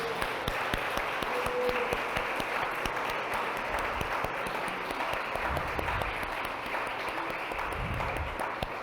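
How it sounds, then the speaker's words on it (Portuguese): A church congregation applauds steadily throughout, a dense, even wash of many hands clapping in a large room, moderately distant and with no talking over it. "aplauda mais uma vez o nome do Senhor."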